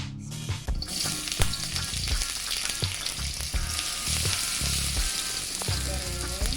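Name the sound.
onions frying in hot oil in a pan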